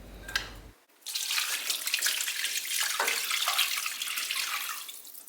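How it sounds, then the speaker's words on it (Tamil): Water pours steadily from a tap into a pressure cooker holding mutton, a continuous close splashing stream after a short pause. "இப்போது இதில் நம்ம தேவையான அளவு தண்ணி ஊற்றிக்கலாம்."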